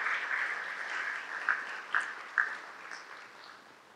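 Audience applause at a chapter event on valuation: a soft, fairly distant wash of clapping with a few sharper individual claps standing out before it fades.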